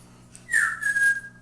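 A pet parrot gives a single clear whistled call that rises then holds for about a second, close and fairly loud over a quiet room.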